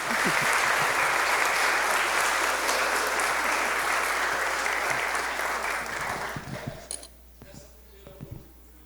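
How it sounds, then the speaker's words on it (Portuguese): Dense, loud audience applause at a special session, sustained for about six seconds before tapering off into scattered claps and quiet room noise. "Gente, muitos aplausos para a Selma Brito."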